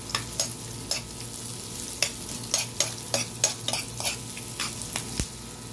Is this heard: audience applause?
no